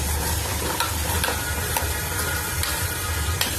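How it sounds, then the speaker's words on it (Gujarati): Browned onions sizzle and fry in a pan in a home kitchen, a steady dense hiss with occasional scraping clicks as they are stirred, continuous and fairly close with no talking. "આપણી આ ડુંગળી શેકાઈ ગઈ છે, જો બ્રાઉન કલરની"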